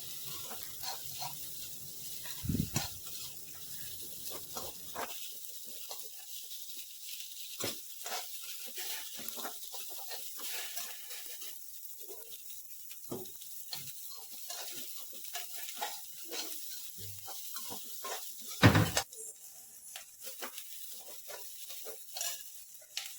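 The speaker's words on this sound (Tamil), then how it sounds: "அதில் ஒரு வெங்காயம் தான் இப்போ வதக்கிறதுக்கு போட்டிருக்கேன்" Quiet, steady sizzling of onion frying in a pan, with occasional louder crackles and pops, plus a few scraping stirs; no talking.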